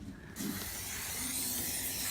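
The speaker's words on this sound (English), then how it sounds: "he is just going to spray the pan here with some cooking spray" Cooking spray mists onto a pan in a steady, close hiss that starts abruptly and holds for about two seconds.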